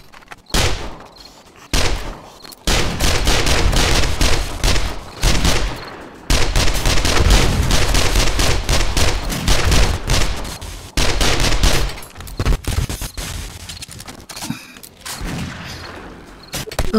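Automated turret in 7 Days to Die firing loud rapid bursts of gunfire, several long chattering volleys separated by short pauses, close and sharp.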